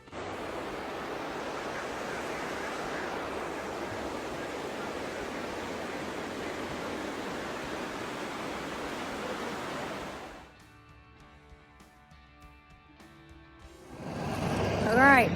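A swollen waterfall in Pagosa Springs, Southern Colorado, roars as a dense, steady broadband rush for about ten seconds, then cuts to a quieter stretch before a loud burst of noise returns at the end.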